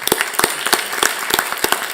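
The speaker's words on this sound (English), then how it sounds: "let's give him a round of applause" A round of applause at a school district board meeting: a short burst of scattered, uneven hand claps from a small nearby group, with no voices.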